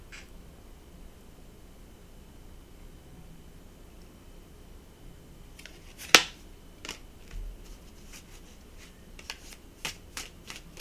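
A deck of tarot cards being shuffled, heard as quiet riffling and flicking bursts that cluster in the second half, with one sharper snap standing out amid soft background hiss.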